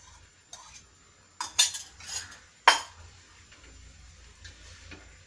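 Avial mixed with curd being stirred in a pot, a few sharp spoon knocks and scrapes against the vessel in a short cluster over quiet background, close and sparse.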